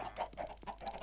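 Chickens in Minecraft clucking in a quiet, repeated run of short, soft calls, fairly faint and with no talking over them.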